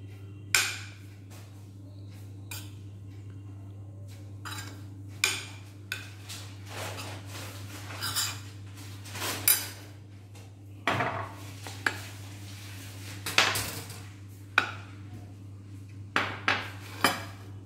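A spoon scrapes and clinks against a bowl while chili flakes are mixed into grated cheese, irregular metallic taps and knocks over a low steady hum, close by, with no talking.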